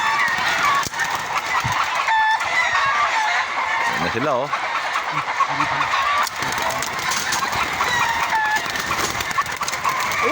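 Chickens cluck and fowl call repeatedly at close range in a busy yard, with a rooster-like call briefly, under steady background noise and occasional talk.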